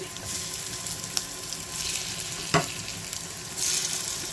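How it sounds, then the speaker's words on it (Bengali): Hilsa fish roe frying in hot mustard oil: a loud, continuous sizzle and crackle with a sharp clatter of a utensil partway through and stirring noises, no voices. "ইলিশ মাছের ডিমটাকে মাখাই নিব, আবার মাখাই নিয়ে এটা এখন ফ্রাই করতে দিয়ে দিচ্ছি"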